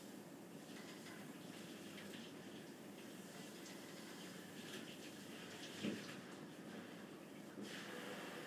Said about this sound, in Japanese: 今からトレーニング前のシャワータイムです